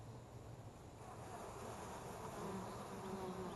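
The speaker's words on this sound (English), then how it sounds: "But all 10 frames are full of bees." Honey bees hum in a thick, steady drone at an open hive with ten full frames, the close buzzing continuous and alone with no voices.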